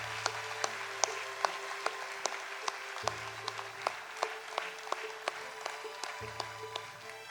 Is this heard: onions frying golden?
no